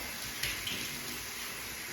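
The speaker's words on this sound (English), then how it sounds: "we're going to rinse it out with lukewarm water" Lukewarm water runs steadily from a tap, rinsing conditioner out of a hairpiece, a continuous soft broadband splash with a couple of brief louder spatters, no talking.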